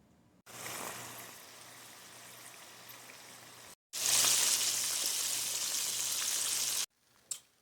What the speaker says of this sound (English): Still sizzling.